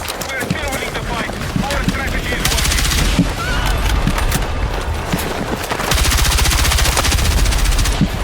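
Dense, continuous automatic gunfire rattles through a chaotic village firefight in Battlefield 6, with heavy bursts swelling louder midway and again near the end, while a voice talks over the shooting.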